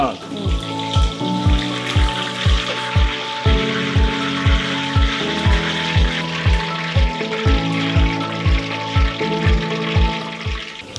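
Chicken frying in oil until light brown in a traditional Telugu restaurant kitchen, a steady close sizzle running throughout beneath loud music with a regular thumping beat.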